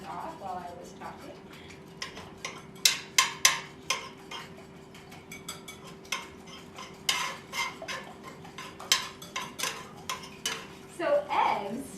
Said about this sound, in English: So a 1/4 cup of milk goes in there. And then we're just going to whisk it all together